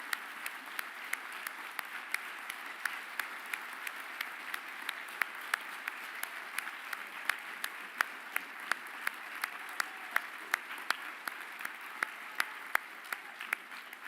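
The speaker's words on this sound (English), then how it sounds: "There's too much of applause for me." Sustained applause from a formal audience, with sharp individual claps standing out over a dense, even wash of clapping that runs on for many seconds.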